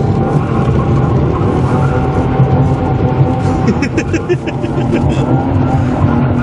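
A BMW E36 drag car engine roars and revs continuously up close with tires grinding as the car spins in place, with voices faintly underneath.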